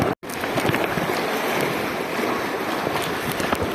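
A boat rides rough river water near Manado with a steady rush of spray and wind noise, continuous and close, after a very brief dropout at the start.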